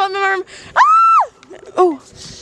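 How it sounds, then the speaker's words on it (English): A young woman screams loudly and suddenly in a college dorm room, with two high-pitched bursts, the first long and sustained and the second shorter, close to the microphone. "I didn't mean to scream."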